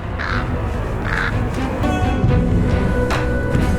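A black crow caws several times in short harsh calls, loud and near over a steady rushing background, with no talking.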